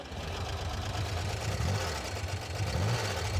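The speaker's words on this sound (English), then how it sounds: "Got a cool sound. It's kind of VW, but it's got a thump." Custom car engine idling with a VW-like character and a thumping beat, a steady low rumble with rhythmic pulses, close and loud with no talk.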